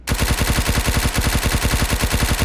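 Sustained rapid automatic MP5 fire in a survival shooter game, a loud close burst of evenly spaced shots lasting a couple of seconds without pause.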